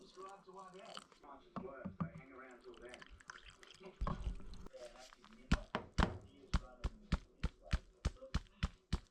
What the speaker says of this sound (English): So I am just going to put this in some Barkeeper's Friend, some hot water, and some white vinegar.